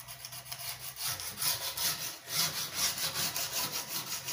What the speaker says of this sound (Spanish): Después tenemos que ir moviendo la lija, obviamente, porque se empasta.